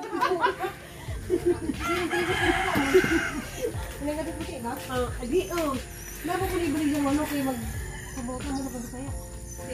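Chickens cluck and a rooster crows amid a busy outdoor scene, with people talking throughout over steady background noise.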